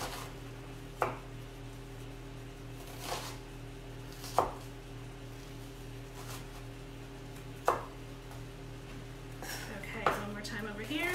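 A knife dices onion on a cutting board in a handful of separate, fairly faint chops spaced a second or more apart over a steady background hum.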